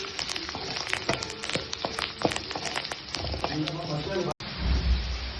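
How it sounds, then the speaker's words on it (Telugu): A handful of curry leaves frying in hot oil until crisp, a dense crackling sizzle with many sharp spits and pops close up for several seconds, then a brief cut and a softer, lower frying hiss. "కరివేపాకు ఒక గుప్పిడంతా వేసుకోండి. బాగా క్రిస్పీ అయ్యే వరకు ఫ్రై చేసుకోండి."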